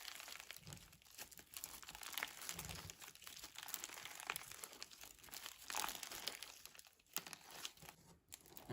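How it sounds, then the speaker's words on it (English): Close, crunchy crackling from slime overstuffed with beads being squished and kneaded by hand, irregular bursts of crinkly popping with short pauses between squeezes, quiet and intimate with no talking. "I really like how it's almost overstuffed with those beads. It makes it nice and crunchy."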